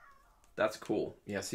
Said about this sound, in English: my cat's even impressed, if you can hear her yelling in the background